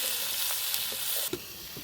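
Onions fry with a steady, loud broadband sizzle while a spatula scrapes and clinks in the pan every few moments during a picnic cook-up; no voices.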